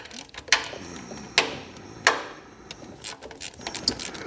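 A 10mm bolt being cracked loose from a coil pack on a Toyota MR2 Roadster Mk3's 1ZZ engine, giving three sharp metallic clicks with fainter ratchet ticks between them, close up and with no talk.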